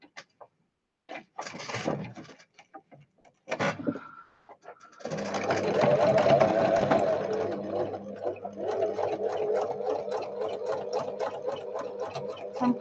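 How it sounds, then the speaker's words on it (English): A domestic sewing machine stitching a Velcro strip onto a fabric pocket book runs steadily and close for several seconds after a few short bursts and pauses, its motor whirring with a rapid needle rhythm. "So I'm just sewing this Velcro piece in"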